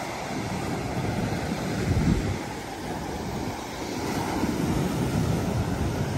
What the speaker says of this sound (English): Here are the waves.